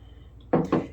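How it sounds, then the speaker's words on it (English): Bourbon splashes while being poured into a glass infinity bottle, two short close bursts of liquid spattering in quick succession after a quiet moment. "I'm getting like little spills all over the place, just from the splashing"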